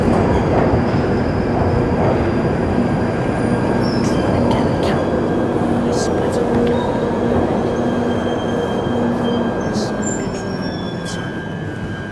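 A London Underground train pulls into a platform on the tube's southern stretch between Balham and Morden. A heavy, continuous rumble carries thin, high wheel squeals that come and go as it slows.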